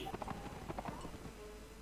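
Horses galloping in the Napoleonic Wars video game with the Carlist mod: a quick, faint run of hoof clip-clops through the first second, fading out amid low battle ambience.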